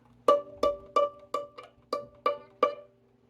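Eight separate plucked violin notes in a slow, steady pulse, each fading quickly, played alone and fairly quietly.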